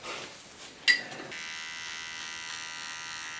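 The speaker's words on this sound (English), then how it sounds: "now I'm going to clean the contour with my small clipper." Small electric hair clipper trimming the contour of a haircut, a brief click and clatter followed by a steady, close, high-pitched buzz running alone without talk.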